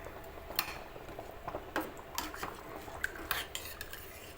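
Sago mixture stirred in a pot on a gas stove, the spoon scraping and clinking against the metal in irregular light taps and ticks over a soft steady background.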